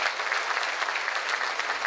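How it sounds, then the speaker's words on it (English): Audience at a Chinese New Year gala for a Toronto business association breaks into sustained, dense applause, a steady roomful of clapping with no voices. "big round of applause."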